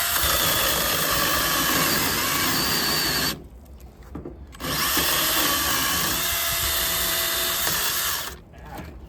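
A chainsaw fitted with an automatic oiler cuts through wood, its engine roaring loud and close. The steady whine drops out briefly twice as the saw eases off, then resumes at full power.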